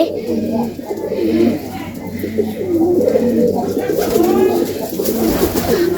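Native pigeons on a Noakhali farm cooing repeatedly in low, throaty rolling calls, a male calling his mate to the nesting pot, close by and continuous, with faint background chatter.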